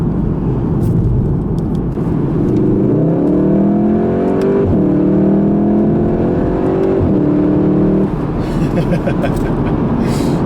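A 2016 Volkswagen Golf R with a DSG gearbox revs up through the gears from inside the cabin, its engine note climbing, dropping at each shift and rising again over a constant road rumble.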